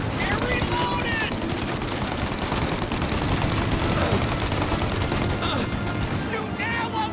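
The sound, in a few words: gunfire in a shootout, from video game Mafia Definitive Edition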